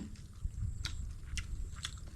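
Someone chews food, likely a spicy termite-mushroom chili dip, with soft wet bites and crunches recurring irregularly and close up under a low background rumble, with no talking.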